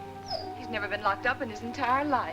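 A dog shut in a cellar in a film whimpers and howls in wavering, rising cries, close and clear, while someone speaks over it.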